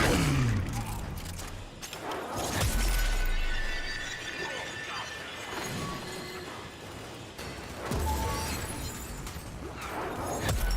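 Glass-shattering attacks in the video game Warframe, repeated crashing and splintering bursts over busy game noise, dense and loud throughout with a voice talking underneath.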